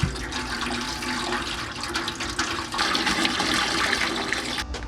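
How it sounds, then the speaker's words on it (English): Water poured steadily into the water pan of a smoker set up for beef ribs, a continuous splashing, gurgling pour close by and fairly loud, with no talking. "Go ahead and add water to our water pan."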